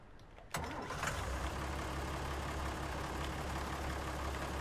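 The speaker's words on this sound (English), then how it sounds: "we need to fertilize with the little tractor" A small tractor with narrow wheels in Farming Simulator 19 starts up with a sudden rise in noise, then settles into a steady, droning mid-pitched idle that continues alone.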